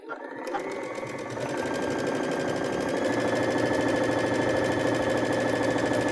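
A Baby Lock sewing machine stitches a seam with a fast, steady mechanical whir that starts abruptly and runs loud and continuous, close up and alone.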